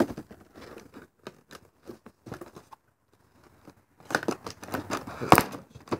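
A taped-up cardboard box for a Mould King Super-S 33041 building set is cut and torn open, with scattered crinkling, scraping and ripping that grows louder and denser near the end.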